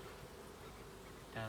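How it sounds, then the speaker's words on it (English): Honey bees buzz steadily at a hive during an early-season inspection with smoke, a continuous close drone throughout, joined at the end by a brief louder tonal sound. "try and get a bit of smoke on here. Calm the bees."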